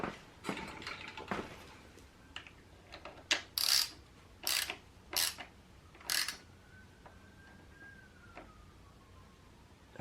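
Socket ratchet snugging bolts on a Luna Cycle primary drive with a 219 chain conversion kit, heard as close, sharp metallic clicks in irregular bursts, several strong clusters mid-clip, followed by a faint squeak.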